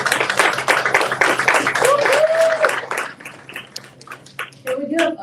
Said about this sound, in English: Can we give a huge round of applause for the Husky team